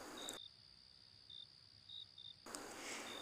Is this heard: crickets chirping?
yes